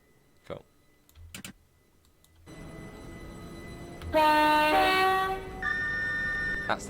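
A Class 378 London Overground electric train on the Gospel Oak to Barking line sounds its horn in two loud, sustained two-tone blasts, after a few faint knocks and a rising rumble of the moving train.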